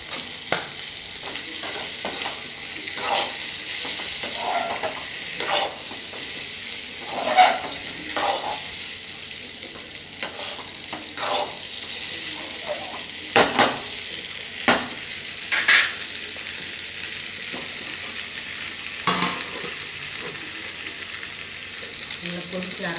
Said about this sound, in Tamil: நல்லா கொதிக்க ஆரம்பிச்சுட்டு கொஞ்சம் அரை டீயாக வச்சுக்கணும். நல்லா அப்படியே குழம்பு கொதித்து வற்றணும்.